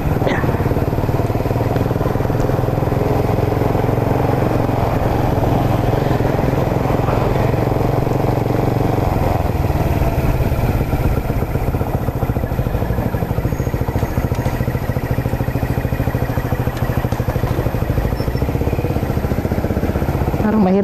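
A running motorcycle engine on a ride-for-hire trip, a steady, loud, close drone with rattling clatter throughout, its tone shifting slightly partway through, and a voice occasionally heard over it.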